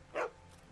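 A dog in The Walking Dead: Season 2 video game gives a single short, muffled bark, brief and fairly soft.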